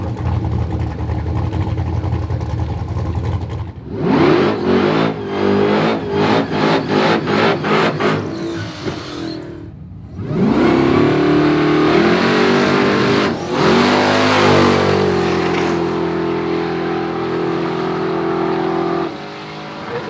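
A Mustang and a red Corvette launch side by side at a drag race event, engines rumbling at idle, then revving hard through rapid gear changes, with a second loud surge of acceleration rising and sustaining before fading.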